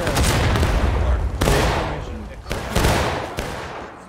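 Rifle volleys in the Civil War game War of Rights, dense overlapping musket fire in repeated bursts with distant booming, loud and continuous, with voices calling out beneath.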